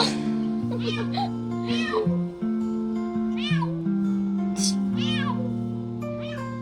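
A cat meows repeatedly, about half a dozen drawn-out, rising and falling cries, close and loud over a steady low humming drone.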